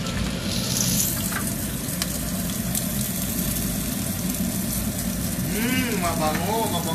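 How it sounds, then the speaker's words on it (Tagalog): Onion, garlic and tomato sauté in a hot pan for beef puchero, giving a steady, close, continuous sizzle and crackle, with a voice briefly heard near the end. "ngayon, ang gagawin natin ay igisa na natin ang sibuyas, bawang at kamatis."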